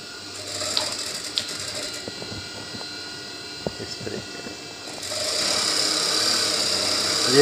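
A sewing machine stitches a trouser leg seam in a tailoring workshop, with faint mechanical clicks and intermittent runs through the first part, then a steady, louder whirring run from about five seconds to the end.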